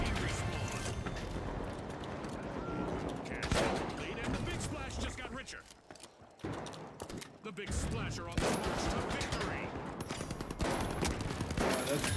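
Gunfire in The Finals video game, dense and continuous with rapid overlapping shots and impacts, including shots coming through walls, heard under a player's excited talk with a brief lull midway.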